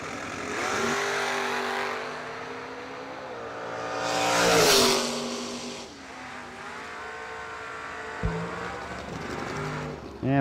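A Camaro drag racing car launches hard down the strip at a bracket race, its engine roaring and rising through the gears, then fading before the next car fires up.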